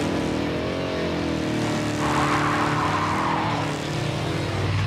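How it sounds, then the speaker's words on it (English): Truck at the U.S. Street Nationals drag racing event at Bradenton Motorsports Park, its engine roaring at full power: a loud, close, harmonic howl that shifts in pitch, with a harsh burst midway, alone with no talk. "The truck is firing on all cylinders."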